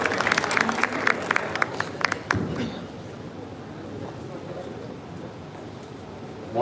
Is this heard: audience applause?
yes